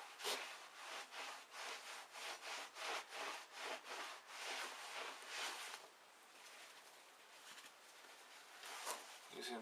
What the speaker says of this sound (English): Using microfiber cloth to clean it.